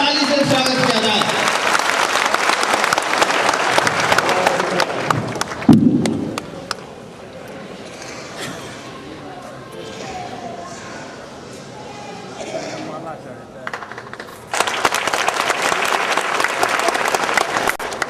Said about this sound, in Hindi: तो श्री हीरालाल इंदौरा जी, जोरदार ताली से स्वागत किया जाए